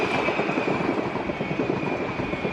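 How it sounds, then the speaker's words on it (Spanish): A Chinese-built CRRC SFE train on the Metrotren Rancagua service running through a station without stopping, a steady loud rumble with a high whine held throughout. "Ese tren no para aquí, solamente lo vemos pasar."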